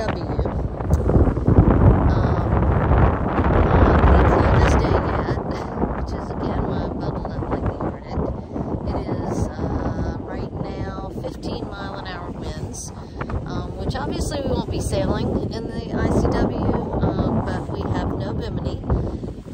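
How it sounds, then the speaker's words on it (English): Strong wind buffets the microphone on a boat heading up the Intracoastal Waterway near Charleston, a loud continuous roar with gusts that swell and ease throughout. "I don't know if you can hear any of this with the wind."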